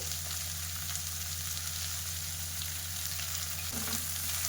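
Ivy gourd frying in a pan with turmeric, coriander-cumin, red chilli and salt gives off a steady, fairly quiet sizzle over medium flame, with a soft stir near the end.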